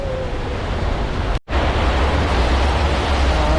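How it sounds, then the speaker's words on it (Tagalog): Heavy rain pours steadily on a traffic-packed city road, a dense, loud hiss that breaks for a split second and then resumes just as strong. "Yung lakas ng ulan."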